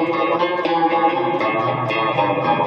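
Electric guitar played through a Cube Baby amp on its clean channel with modulation added, chorus-like shimmering notes ringing close and fairly loud, with no talk.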